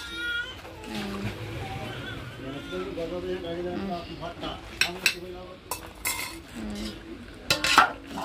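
Rice is poured into a cooking pot and a lid is set over it. Soft stirring and scraping give way to sharper metallic clatters and clinks toward the end, with voices talking nearby.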